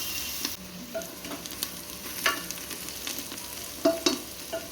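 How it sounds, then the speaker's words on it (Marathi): Cardamom seeds stirred into tomato soup in a pan, a soft steady simmer-like hiss with a few light spoon scrapes and taps, fairly quiet and without talk. "मसाले विलायची त्यामधलं दाणे आपण ह्यामध्ये घालून घ्यायचे आणि एकदा व्यवस्थित हलवून घ्यायचे"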